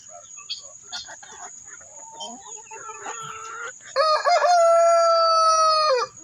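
A leghorn chicken clucks in short, scattered calls, then lets out one loud, sustained crow near the end, close by and with no talk over it.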